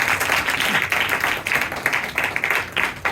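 Worshippers at a Sunday church service clap together, a close, lively burst of many hands with an uneven, surging rhythm that rises and dips across the whole stretch.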